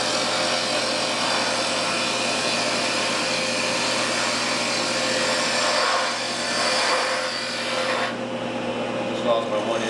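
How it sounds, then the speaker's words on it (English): A bowl gouge cutting a wooden bowl blank spinning on a lathe gives a continuous loud rasping, scraping hiss with a steady hum from the machine underneath, easing off in the last couple of seconds. "I'm using a bowl gouge for this"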